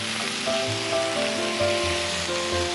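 Ground cumin and coriander hitting a hot pan in a home kitchen, a steady close sizzle with soft scraping and occasional clinks of utensils, continuous and even throughout, with no voices.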